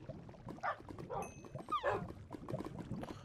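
Several dogs in the Minecraft video game whine and yelp in short, overlapping bursts, moderately loud, with game sound effects underneath.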